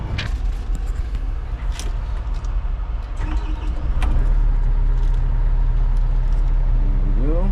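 A heavy haul machine's diesel engine cranks and fires up, settling into a loud, steady low rumble that grows stronger midway, with a rising whine near the end.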